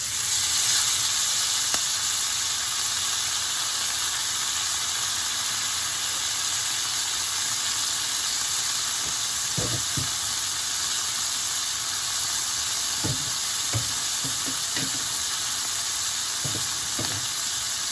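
Fresh fenugreek leaves dropped into hot oil in a frying pan, giving a loud, steady sizzle throughout with a few faint stirring clunks and scrapes toward the end.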